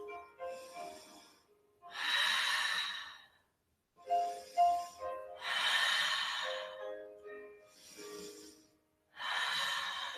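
Slow, deliberate yoga breathing held through an exalted warrior pose, several long airy inhales and exhales alternating with short quiet gaps, close and fairly loud, with no talking over it.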